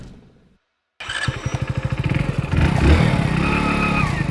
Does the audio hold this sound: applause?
no